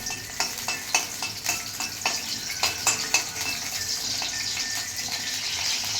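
Sliced green chilies sizzle in hot oil in a pan, with a steady frying hiss and a run of sharp scraping stir strokes early on that give way to continuous sizzling, close and fairly loud, no voices.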